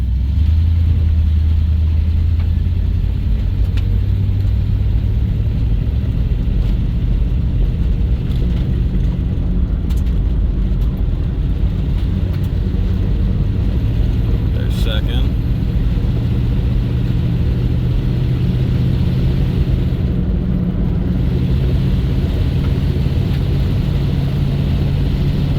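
A 1990 Dodge Ramcharger driving after a transmission repair, a steady low engine drone with gear changes heard as gradual pitch shifts, continuous and fairly loud from inside the vehicle.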